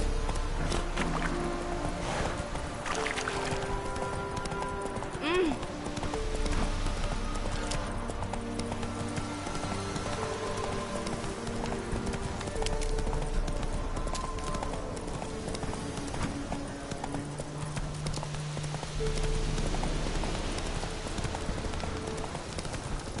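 Horse hooves clip-clop in a steady galloping rhythm in the video game The Witcher 3, set against a low background of game music and ambience.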